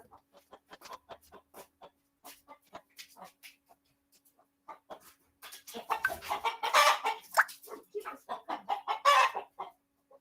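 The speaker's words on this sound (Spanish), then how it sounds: "Un gallo, mi hermana de mascota que viene y entra a cualquier lado" A pet rooster clucks in short, scattered calls that build into a louder burst of crowing and clucking, fairly near and heard alone.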